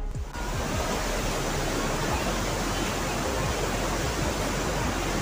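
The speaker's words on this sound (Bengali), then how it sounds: "নর্মদা নদী পাথরে ধাক্কা খেয়ে ঝিরিঝিরি বৃষ্টির কণার মতো এসে আমাদের গা ভিজিয়ে যাচ্ছে এখানে" Water of the Narmada River crashing against rocks at a waterfall, a loud continuous roaring rush with spray, steady and close throughout.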